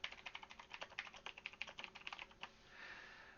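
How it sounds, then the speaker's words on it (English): A loud computer keyboard clatters in a quick, steady burst of close key presses for about two and a half seconds, then stops, with no talking. "I apologize for the loud noise that my keyboard makes."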